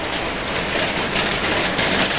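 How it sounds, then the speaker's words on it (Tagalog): Heavy rain pours down steadily on a farm in the countryside, making a dense, continuous hiss that fills the short stretch from start to finish with no voices. "Malakas ang ulan ngayon."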